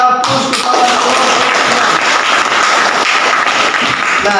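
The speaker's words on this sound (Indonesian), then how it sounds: "Ya, berikan aplaus kepada kelompok" A classroom of students applauds a presenting group, a steady, dense burst of clapping that fills the room at close range for several seconds, with a faint voice mixed underneath.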